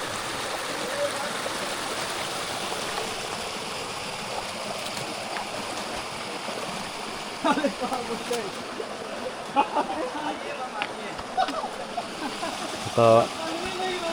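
A river near Bhimashankar rushes steadily with a constant broadband hiss of flowing water, with occasional splashes and faint distant voices.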